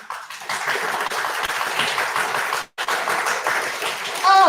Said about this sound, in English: Whenever we're feeling a little bit down, let's clap a little bit.